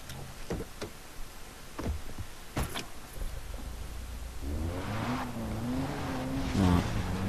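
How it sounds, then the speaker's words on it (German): A car in the video game Far Cry 3 starts up after a few clicks and thumps, then its engine drones steadily and rises in pitch as it drives off, fairly loud with no talking. "So, und dann schnell wieder ins Auto. Beziehungsweise aufs Auto."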